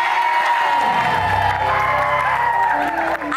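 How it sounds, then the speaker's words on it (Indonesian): An Indonesian dating game show's studio audience claps and cheers in a brief, steady wash, with music sustained beneath the crowd noise. "Tepuk tangan buat Mas Challenge"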